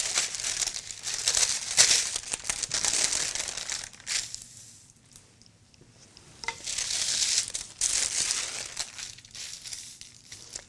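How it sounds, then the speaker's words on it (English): Paper sewing pattern crinkling and rustling as it is laid out and smoothed over fabric on a cutting surface, in two close bursts of crumpling separated by a quieter stretch with no talk. "what I'm going to do is take a pattern and lay it out."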